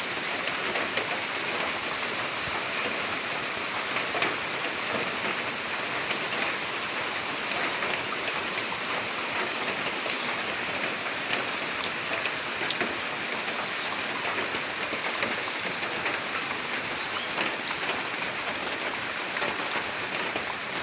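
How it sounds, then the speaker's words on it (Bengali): Steady rain falls outdoors, a dense, even hiss of drops on surfaces that stays constant throughout with no voices. "অথচ বৃষ্টি পড়ছে"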